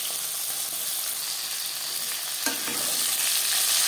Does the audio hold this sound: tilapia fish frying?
yes